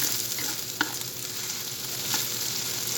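White onion, about 50 grams, frying in a pan for a crab dish: a steady close sizzle with soft stirring scrapes and a couple of brief clicks, no voices.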